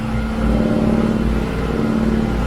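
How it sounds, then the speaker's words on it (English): A polishing wheel runs hard at high speed, a loud, steady motor drone with a strong humming tone that swells slightly and stays constant throughout. "I'm abusing this polishing wheel"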